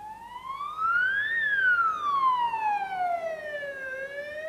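A wailing siren sweeps up and then slowly down in pitch, loud and steady, like an ambulance passing nearby.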